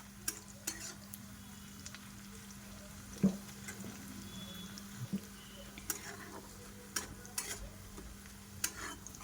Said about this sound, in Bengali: এদিকে পেঁয়াজটাও আমার ভাজা হয়ে এসেছে।